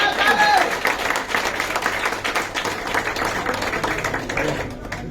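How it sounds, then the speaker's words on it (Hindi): An audience claps at a success-story event, with a sharp, uneven patter of hands that starts strong and gradually thins out while voices murmur underneath. "ताली बजाओ।"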